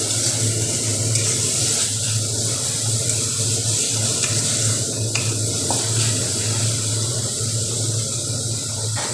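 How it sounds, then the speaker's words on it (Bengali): Steady sizzling of spice paste frying in a pan over medium heat, with occasional stirring scrapes, continuous and fairly loud throughout, with no talking. "আবারও ভালো করে আমি মশলাটাকে ভাজা করে নেব"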